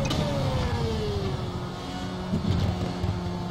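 A car engine in a racing video game gives a smooth rising throttle blip and a gentle lift under a steady engine drone, with no talking.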